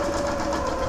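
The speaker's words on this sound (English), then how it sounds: "we're going to switch back to the sewing machine and we're just going to sew this row onto the other 2 rows" A sewing machine stitches quilt rows together, its steady motor whir and rapid needle chatter running continuously and close for the whole second, with no talk.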